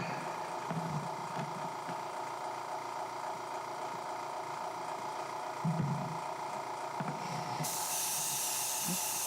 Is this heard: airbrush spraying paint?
yes